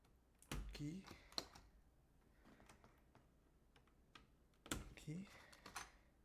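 Keycaps are pressed onto an Attack Shark K86 keyboard fitted with Akko Fairy silent switches, giving a few quiet clicks and plastic snaps in two short clusters, faint and close, under soft background noise.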